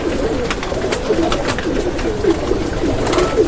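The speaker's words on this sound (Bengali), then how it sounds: "এই দেখেন কত সুন্দর করে খাবার খাচ্ছে" Pigeons fed once a day peck at their feed in a coop, with soft repeated cooing, fluttery rustles and scattered pecking clicks under a constant background hum.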